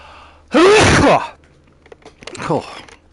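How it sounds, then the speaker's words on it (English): A single loud, explosive sneeze from a player wearing a PSVR2 headset on a PS5 Pro during No Man's Sky, followed after a pause by a breathy gasp or exhale and some light rustling. "Nearly sneezed my headset off."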